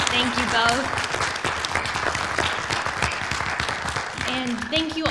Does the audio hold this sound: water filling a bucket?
no